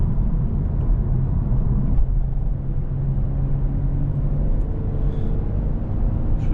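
Subdued exhaust of a 2022 Genesis G70 V6 sports sedan cruising in comfort mode: a steady, low, muffled rumble with road noise, continuous and even, with no talking.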